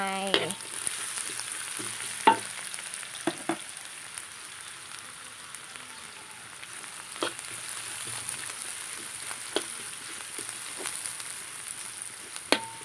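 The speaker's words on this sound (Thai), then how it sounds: "ตั้งน้ำมันให้ร้อนนะคะ ใส่หอม ใส่หอมลงไป" Shallots frying in hot oil in a wok: a steady bright sizzle throughout, with intermittent utensil taps and scrapes, close and moderately loud.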